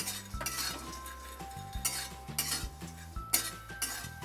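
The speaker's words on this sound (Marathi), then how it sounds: "बघा त्याच्यामध्ये पहिले आपण ही सुकट चांगली भाजून घ्यायची." Dry prawns (sukat) dry-roasting in a hot kadhai, with a metal spatula clinking and scraping against the pan in a steady, repeated rhythm. The sound is close and there is no talk.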